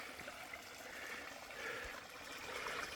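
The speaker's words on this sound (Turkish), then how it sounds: "Şimdi Seza hocamın bahsettiği e, dere burası. Demeci ile Simov'u ayırıyor. Suyu azalmış" A summer creek with low water trickles faintly and steadily between hazelnut trees, a soft, continuous burble in the distance with no speech.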